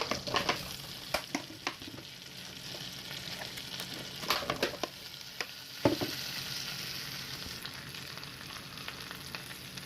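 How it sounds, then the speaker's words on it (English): Sliced mushrooms sizzle and fry in hot butter in a pan, a steady close crackle with sharp bursts and stirring clatter scattered through, with no talking. "Next thing I'm going to do, I'm going to throw in the mushrooms."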